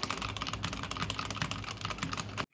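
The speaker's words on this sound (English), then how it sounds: "this is what it sounds like with AirPods and Neep.com software with typing going on in the background" Rapid, continuous computer keyboard typing close by, steady dense clicking for a couple of seconds and then stopping abruptly, heard through AirPods.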